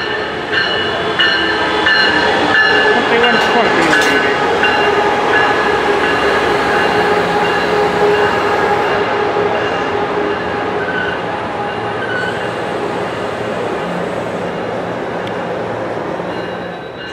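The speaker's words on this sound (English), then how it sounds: "Train 580 now highballing on its way to San Diego." A long freight or passenger train rumbles steadily past at close range on a busy mainline at Fullerton, California, its rolling roar and metallic wheel rattle holding loud and constant with no talking.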